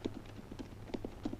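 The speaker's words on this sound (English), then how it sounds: "how'd you hear them horses before me?" Hooves clip-clop in a quick, uneven rhythm, several horses trotting on hard ground, fairly faint and a little distant.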